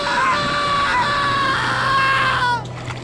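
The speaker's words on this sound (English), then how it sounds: "All of a sudden, we just hear this shrill scream." A shrill, sustained human scream rings out over open water after a yacht sinking in shark-infested seas, loud and wavering for about two and a half seconds before cutting off abruptly.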